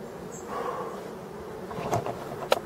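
A hornet buzzes steadily at moderate distance near beehives, with a couple of brief louder knocks or taps near the end.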